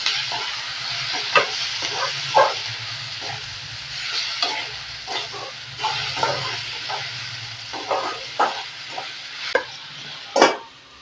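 Mutton chukka cooks in a pan with the mutton's own boiled stock, a steady sizzle and hiss broken by frequent scraping and clinking of a stirring spoon against the pan, close and without talk.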